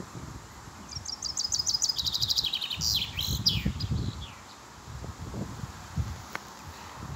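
A European robin sings through a windstorm in quick, high trilling phrases that repeat in bursts, while gusts rustle leaves and rumble underneath.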